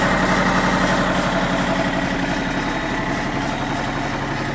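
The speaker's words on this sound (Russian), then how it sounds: "Двигатель работает ровно и хорошо." Kobelco SK024 mini excavator on rubber tracks idles steadily and close, a continuous low diesel rumble with even vibration and no voices throughout.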